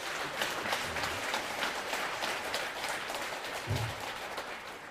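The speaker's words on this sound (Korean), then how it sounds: "이럴 때 박수 치는 거예요" Applause from a congregation at a Buddhist dharma service, a first-day-of-the-month gathering at Bongeunsa temple, as a steady, moderately loud wash of clapping that holds for about five seconds.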